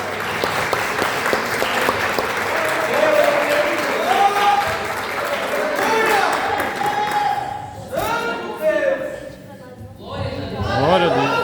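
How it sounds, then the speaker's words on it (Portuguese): A church congregation at a communion service claps loudly and steadily, with voices and singing carrying over the applause throughout. "Vamos então ouvir círculo de oração, palmas para Jesus bem forte."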